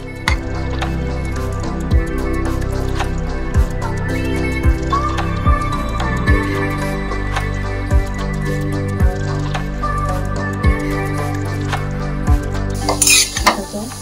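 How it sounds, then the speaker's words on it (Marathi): Grated khees, a milk-based ingredient, goes into hot homemade ghee in a pan and sizzles softly under repeated clinks and scrapes of a spatula stirring it, with a brief louder rustle near the end. "तूप गरम झालं की त्यामध्ये हा किसलेला खीस आपण त्यात टाकायचा."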